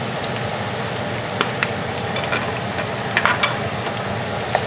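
Spinach sautéing in a pan with red pepper flakes gives a steady, close sizzle and crackle, with small clicks and stirring taps scattered throughout.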